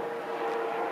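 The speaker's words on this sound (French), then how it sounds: "Attendez, il y a un hélicoptère qui passe." Helicopter passing overhead near an abandoned site, a steady, constant engine roar and whir that fills the brief moment on its own.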